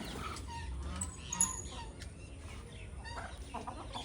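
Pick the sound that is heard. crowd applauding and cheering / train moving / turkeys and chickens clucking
turkeys and chickens clucking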